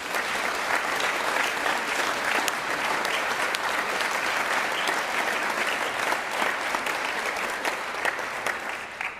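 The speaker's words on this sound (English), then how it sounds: "They also deserve a massive round of applause, please" A large audience gives sustained, even applause for teachers at the Scottish Youth Championships band event, dense clapping holding steady throughout with no letup.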